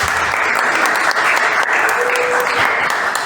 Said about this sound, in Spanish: Les damos un aplauso.